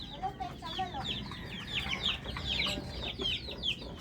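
Chickens cluck repeatedly in quick, overlapping calls, fairly close, with a steady outdoor background.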